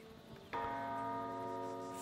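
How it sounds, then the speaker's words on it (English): A large tower bell in Baldur's Gate 3 is struck once, giving a loud, clear clang that rings on with a long, slowly fading tone. "Oh, can I ring the bell?"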